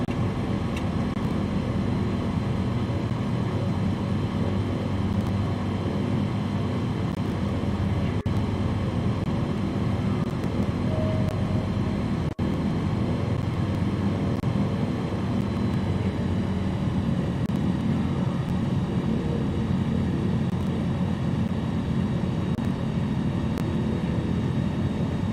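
Steady aircraft engine drone from a bush plane in Flight Simulator 2020, running continuously and fairly loud throughout with little change in pitch, without any talking.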